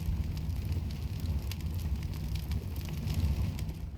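An incendiary grenade fire burning in Counter-Strike 2, a steady close crackling roar with faint sputtering pops throughout and no talk.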